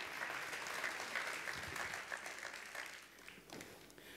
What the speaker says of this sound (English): Let's give another big round of applause to Becky Downing from BuzzVault.